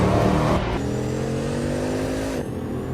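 A Bugatti Veyron Super Sport engine drones steadily at close range, its pitch shifting slightly as it runs, with no voices.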